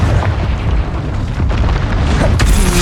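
Heavy booming blast from the Confringo fire spell in the video game Hogwarts Legacy, a loud rumbling explosion sustained across the moment with a sharper burst near the end, no speech.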